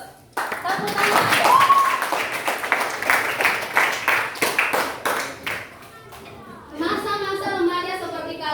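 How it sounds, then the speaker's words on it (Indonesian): Classroom clapping as a group of students applauds together, a dense burst of hand claps that fades after several seconds, followed by children's voices and chatter. "Tepuk tangan."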